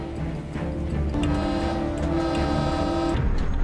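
A train running in an action film scene, a continuous rumbling roll with a sustained tonal horn-like drone over it, loud and steady throughout.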